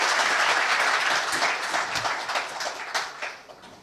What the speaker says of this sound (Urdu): تو کائنڈلی ایک بار کلیپ کر دیں تاکہ پتہ لگے کہ آپ سب لوگ جاگے ہوئے ہیں